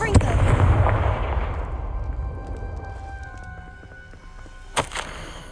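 A Confringo fire spell blasts in the Hogwarts Legacy video game: a loud burst that decays into a rumbling tail, a sharp crack near the end, with some tonal game sounds layered over it.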